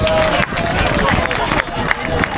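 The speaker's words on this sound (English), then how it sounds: "Please give Mark and Dr. Watt another round of applause" Applause and crowd noise fill a football stadium during an on-field recognition ceremony, a steady dense wash with voices mixed in and a public-address voice over it.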